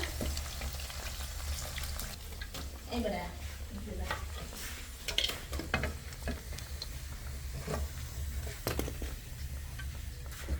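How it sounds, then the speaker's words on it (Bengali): Puli pitha frying in oil, a steady soft sizzle running throughout with occasional sharper pops and clinks, fairly quiet and close. "আর এই পাশে কিছু তেলে ভাজা হচ্ছে ভাজা পুলি পিঠা"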